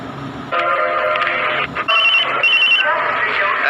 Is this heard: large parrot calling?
no